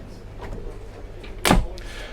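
A large storage drawer slides open aboard an Absolute Navetta 53 yacht, a quiet rolling rub building to one sharp close-by clunk, with soft room noise around it.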